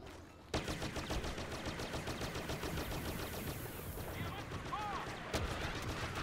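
Blaster pistol fire and battle noise in Star Wars Battlefront multiplayer: a dense, steady stream of rapid shots and effects running throughout, with a sharp burst near the start and another toward the end.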